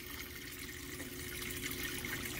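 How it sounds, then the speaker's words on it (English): Water gurgles and trickles back into a plastic tote tank in a barn after the fresh water supply is shut off, a steady low splashing flow that stays faint and continuous with no voices. "Hear it gurgling, it's falling back into the tote"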